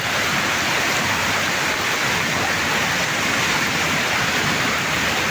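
A swollen creek rushes after a typhoon flood, a loud, dense, continuous roar of fast water with no break and no voices.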